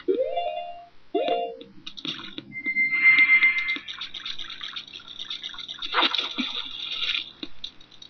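Bubbling and splashing hot spring water in the Zelda: Majora's Mask video game, heard with game sound effects and chimes over a moderately loud, continuous bed of liquid noise.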